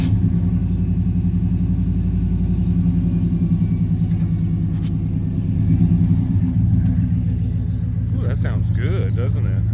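A 2005 Ford Escape with the 3.0L engine idles close by in a steady low rumble that holds throughout, briefly swelling midway, with a voice near the end.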